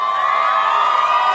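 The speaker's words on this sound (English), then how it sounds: "Let me get a round of applause." Crowd cheering and whooping in a steady, loud burst, voices blending into one sustained roar with no talk over it.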